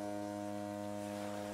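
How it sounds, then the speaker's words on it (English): A foghorn sounds over a foggy lake, a steady low tonal drone with stacked harmonics that holds unbroken throughout, moderately loud and alone. "a bank of fog arose and started the foghorn"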